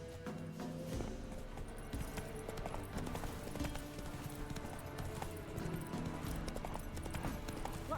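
Roach, a horse in The Witcher 3: Wild Hunt, gallops in a rapid, steady clip-clop of hooves that continues throughout, fairly quiet against game ambience.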